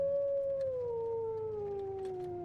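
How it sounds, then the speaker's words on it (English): A deep, primal howl in a Curse of Strahd Dungeons & Dragons session, one long sustained wolf-like cry that slowly falls in pitch, echoing alone over a faint background. "As you discuss this with Uvok, you hear another howl,"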